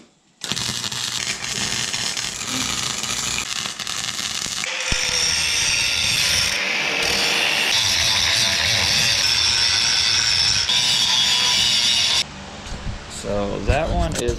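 An arc welder joins a cup onto a lower control arm for a 1967-72 C10, with a harsh continuous crackling buzz that shifts in tone midway and stops abruptly near the end, close and loud.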